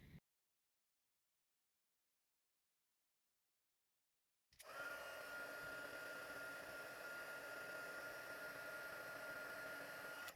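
Heat gun embossing a piece of Poppy Parade cardstock, a steady loud blowing whir with a faint high whine, starting abruptly after a silent pause and running unbroken to the end.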